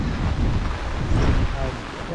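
Strong wind sweeps across rice fields, a steady low rumble and roar of gusts buffeting the microphone.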